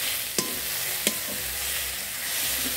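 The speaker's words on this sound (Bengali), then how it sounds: "নাড়িয়ে চাড়িয়ে কষিয়ে নিতে হবে" Soybean mince sizzles and fries in a pan with steady hissing while a utensil scrapes and stirs it, giving a few sharp clinks against the pan.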